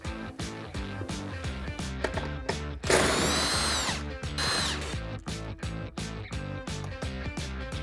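A power tool, likely an impact wrench, spins off the six nuts holding the rear plate of a Can-Am Maverick side-by-side during a radius-arm swap, in two loud bursts over a steady rhythmic backing beat.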